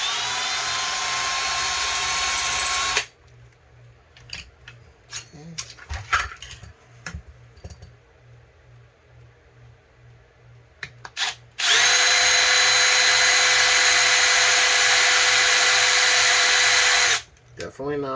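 A power drill bores with a drill bit while fitting an underwater thruster, running in two loud, steady bursts of about three and six seconds separated by clattering handling noise and scattered knocks.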